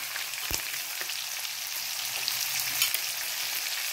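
Onion going into a pan of garlic frying until golden, for Brazilian feijão tropeiro; a steady close sizzle with a sharp clatter at the start and light stirring knocks, no talk.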